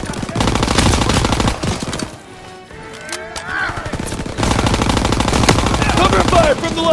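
Heavy machine gun fire in a World War II battle rattles loud and close in long continuous bursts, briefly thinning out to scattered shots midway before roaring back at full intensity.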